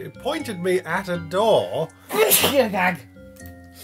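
Someone talks at a steady pace and then breaks off with one abrupt, loud sneeze. His speech resumes right after it.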